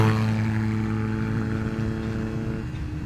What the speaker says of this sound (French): Un T-Max avec un pot Akrapovic.